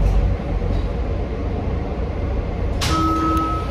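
Steady low rumble of a moving train rolling along the tracks heard from inside a carriage, with a brief higher clatter and ringing tone near the end; no voices.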